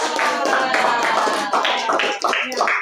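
Group clapping for a student named Reja during a class discussion session, a dense patter of many hands filling the room, fairly loud and continuous with voices mixed in.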